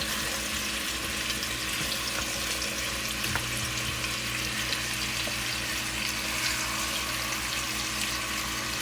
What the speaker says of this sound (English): You want to add them into your pot like this and fry them down.